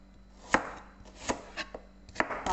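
A knife chops onion on a board in several sharp, irregular knocks, close and fairly quiet, with no talking.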